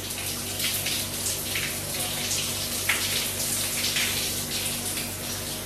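Shower water running and splattering over AirPods Pro Gen 2 earbuds, a steady close hiss of spray with low humming underneath and no talking.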